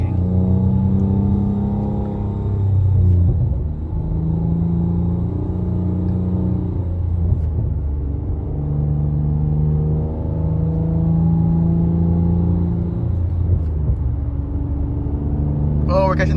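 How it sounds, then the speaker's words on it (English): Interior engine drone of a Nissan Maxima with a CVT accelerating on the road, a steady low rumble with gently shifting pitch, heard up close from inside the cabin while people talk over it. "Damn, that CVT though, I think it's overheating."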